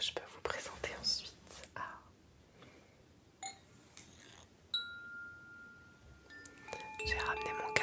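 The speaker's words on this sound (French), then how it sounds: "J'ai ramené mon carillon aussi." An indoor wind chime gives scattered bright metallic rings, a few isolated tones early and then a cluster of overlapping tinkling notes near the end, amid soft whispering and quiet handling noises.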